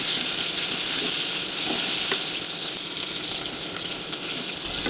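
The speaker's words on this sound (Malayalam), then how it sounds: "ചൂടായ എണ്ണയിലേക്ക് നമ്മൾ ഉപ്പ് തേച്ച് വെച്ച പച്ചമുളകൊന്ന് ഇട്ട് കൊടുക്കും." Salt-rubbed green chillies dropped into hot oil, a loud, close, continuous sizzle and hiss with faint crackles throughout.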